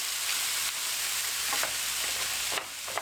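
Food frying in a pan with peri-peri seasoning and wilting greens, a steady close sizzle with faint stirring clatter throughout and a brief louder scrape near the end.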